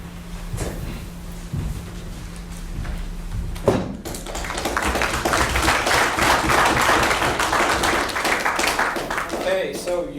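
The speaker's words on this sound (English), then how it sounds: "Okay, so you clapped too soon." Audience applause breaks out at a talk, a dense burst of clapping that swells after a few seconds and holds steady and fairly loud, with a speaking voice heard before it starts.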